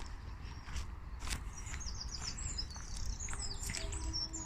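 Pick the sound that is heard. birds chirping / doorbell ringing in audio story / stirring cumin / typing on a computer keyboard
birds chirping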